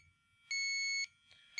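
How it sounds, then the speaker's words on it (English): An automotive AC refrigerant leak detector sniffer beeps while warming up, giving a loud, steady high electronic tone that holds for about half a second, then a short faint blip and another tone starting at the end, with no talk. "we're just warming up with the beeping."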